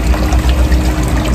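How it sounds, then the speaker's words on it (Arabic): Water pours steadily down a homemade waterfall, a loud, close, continuous splashing rush with no speech. "طلق لنا الماء"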